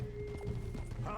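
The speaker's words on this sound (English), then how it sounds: "He's got a nice horse." A big Shire horse in Red Dead Redemption 2 clops its hooves in a low, uneven beat. A brief whinny rises near the end over the background hum.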